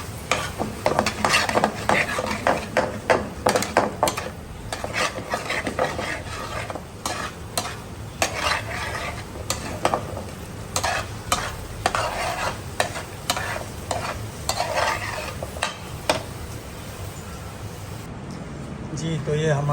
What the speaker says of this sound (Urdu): پھر اس کی اچھی طرح فرائی کریں گے